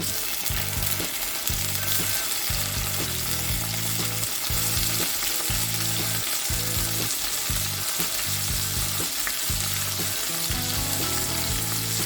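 Loud steady sizzle of tomato frying in a pan alongside bitter melon, continuous crackling with rhythmic bursts as it is stirred, no voices.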